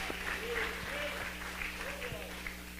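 A church congregation applauds, a soft, steady patter of many hands heard from a distance, with a faint voice and low hum underneath.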